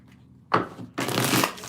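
Tarot cards are shuffled by hand in two quick riffling bursts, the second longer, crisp and close, with a short pause between them.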